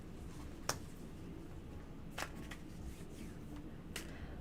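Tarot cards are shuffled by hand in a quiet room, three short sharp riffling snaps spread over a few seconds against faint background hiss, no talking.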